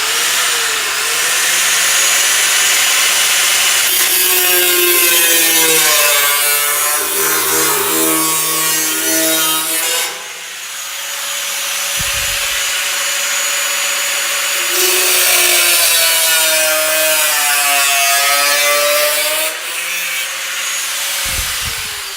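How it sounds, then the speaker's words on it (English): A power tool grinds and cuts at the corners of a steel fuel tank mounting flange for a custom rear tank on a 67-72 Chevy. The sound is loud, sustained and harsh, with the pitch rising and falling across two long passes separated by a short break. "I'm gonna go ahead and trim the corners on this tank"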